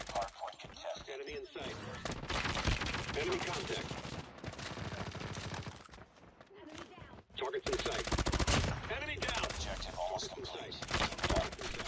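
Rapid M30 rifle gunfire from a video game cracks out in loud sustained bursts, with a short lull midway before another heavy volley.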